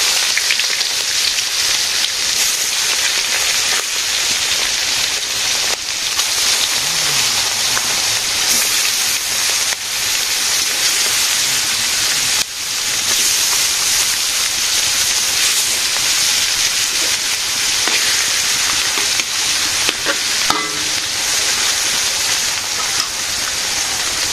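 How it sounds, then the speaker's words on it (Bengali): Fish frying in pure mustard oil in a village kitchen, a loud, steady hiss of sizzling that runs unbroken and close for the whole stretch, with no voices over it. "মাছ ভাজি হয়ে গেছে"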